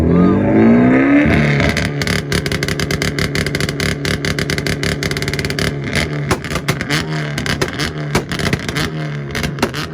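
A Mazda Miata's engine revs hard at an outdoor import rev battle and 2-step event in Tulsa, loud and close, with a rising rev followed by rapid limiter stutters and crackling pops throughout.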